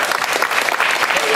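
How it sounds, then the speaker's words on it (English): A small indoor audience claps in a brief, dense burst of applause at a session where people with a learning disability look at voting, the clapping steady and close. "A little round of applause."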